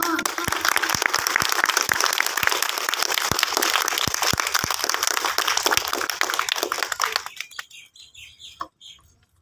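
Audience applause for a speaker at an Urdu speech event on Allama Iqbal, dense steady clapping filling most of the stretch, then thinning and fading into near quiet at the end.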